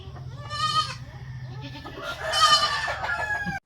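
Goats bleat loudly and repeatedly during deworming with an ivermectin dewormer, wavering cries close by, with a rooster crowing in the background.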